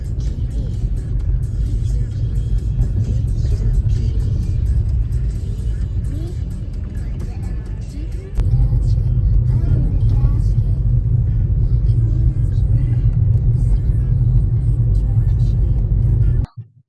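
Steady low road rumble of cars on a cold early-morning road with light traffic, a continuous engine drone that grows louder partway through as a vehicle draws closer, with no talking.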